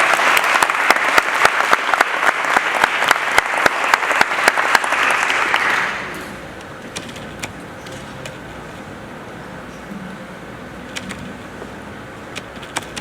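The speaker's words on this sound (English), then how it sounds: "You gotta give him a round of applause." Audience applause at a live Washington, DC gathering, loud dense clapping for about six seconds that then abruptly fades to quiet room noise with scattered faint claps.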